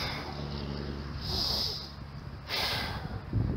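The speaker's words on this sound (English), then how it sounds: "If it says full exhale, get a full exhale at the top." During a back-to-wall shoulder flexion exercise, a person gives full, breathy exhales through the nose, two soft hissing breaths heard close and quiet with no talk.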